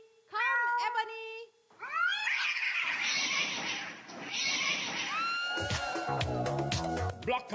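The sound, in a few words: cats meowing and caterwauling in a TV advertisement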